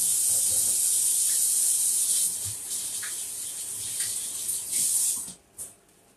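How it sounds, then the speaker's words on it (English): Running tap water splashing steadily over hands at a kitchen worktop during Italian ravioli making, a continuous hiss that stops abruptly near the end, leaving faint room sound. "wash my hands"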